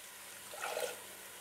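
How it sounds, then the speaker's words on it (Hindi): Water is poured briefly into a yogurt-based white chicken gravy in a pan, a soft, faint splashing pour lasting under a second against quiet background. "आधा ग्लास जो है वो पानी का ऐड करना है इसमें"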